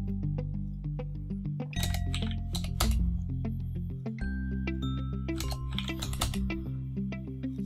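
Mouse clicks and keystrokes on a computer keyboard while working in Mastercam 2022 software, a series of sharp, close, irregular taps over steady background music.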